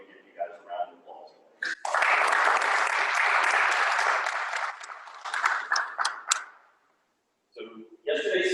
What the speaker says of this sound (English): I'd love to give you guys a round of applause